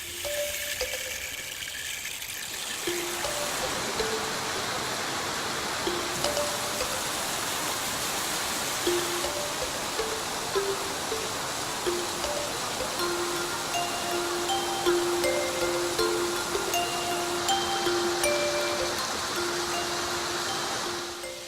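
The 1,000-stage waterfall pours down a rock wall in a steady, broadband rushing roar that swells in after a quieter opening and holds constant and close for the rest of the span, with no talking.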